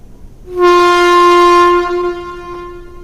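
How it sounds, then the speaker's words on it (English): A loud, steady air horn blast held for a couple of seconds, with a bright tonal sound, then fading out. "What the hell is that whistle? It's an air horn."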